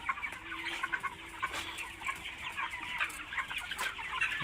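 Many chickens cluck and chatter together in a steady, crowded murmur, a busy poultry-house din on a raised slatted floor, with no talking.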